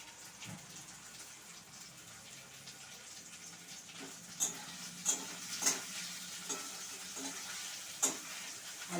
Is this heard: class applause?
no